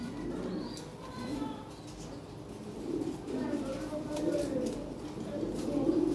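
Lahori Sirazi pigeons, including a yellow pair, coo in soft repeated rolling phrases close by, with someone talking over them.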